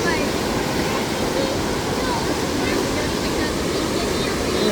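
Huka Falls near Taupo, New Zealand, sends a steady, dense roar of rushing water that fills the whole stretch without a break, loud and close, with no clear talk over it.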